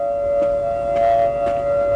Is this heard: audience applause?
no